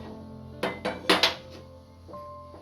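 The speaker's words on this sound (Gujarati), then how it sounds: "ગેસ ઉપર કુકર મૂકી દીધું છે અને ગેસ ચાલુ કરી દઈશું" A metal pressure cooker is set down on a gas stove, producing a few sharp metallic clanks and clinks in quick succession, close and fairly loud, followed by quiet.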